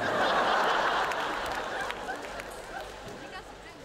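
Audience applause at a live stand-up comedy show, a broad steady wash of clapping that starts loud and slowly thins, with scattered chuckles and murmuring from the crowd.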